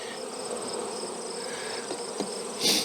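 A dense, steady hum of many honeybees buzzing close by beneath a hive's screened bottom board, with a brief louder burst near the end.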